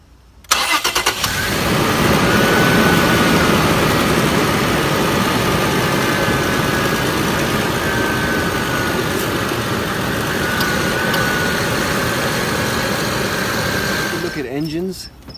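A Toyota Prado 120 series with a 4-liter V6 VVTi petrol engine starts and then idles steadily, a loud, even rumble close by for about fourteen seconds before cutting off.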